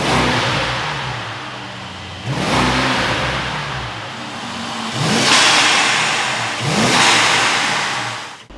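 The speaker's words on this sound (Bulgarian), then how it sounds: "тази клапа може да бъде пренебрегната и да бъде отворена и да чуете грохота на този двигател" A Mercedes S680 Maybach engine roars with its exhaust flap open, several surging revs rising and falling in waves, loud and close with a deep rumble.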